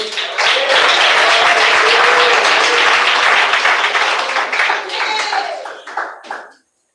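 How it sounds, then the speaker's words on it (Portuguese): A church congregation bursts into loud, sustained applause mixed with cheering voices, holding steady for several seconds before thinning into scattered claps and cutting off. "recebemos ela com palmas e glória a Deus"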